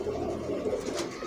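A Sialkoti pearl pigeon, a red pearl variety, coos in a low, continuous murmur close by, with steady soft vocalizing throughout and no talking.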